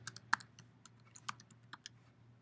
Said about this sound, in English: you can also search for an animal by typing the registration number or prefix and tattoo into the gray input box